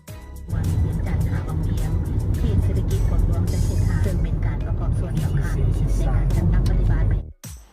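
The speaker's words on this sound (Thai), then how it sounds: "และขับรถไปเรื่อยๆ ตามทางเลยครับ" A car drives along a road in Laos, a steady close engine and tire rumble running for several seconds before cutting off near the end, with someone talking over it.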